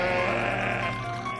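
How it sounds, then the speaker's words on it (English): A sheep bleats in a long, wavering, close cry that fills the short moment, loud and alone with no talk. "the escaped sheep suddenly appeared in the room"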